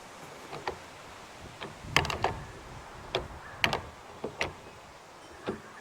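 A threaded fitting for a homemade pig waterer turns into a drilled hole in a container, cutting its own threads with a scatter of faint, close creaks, ticks and scraping clicks at irregular intervals.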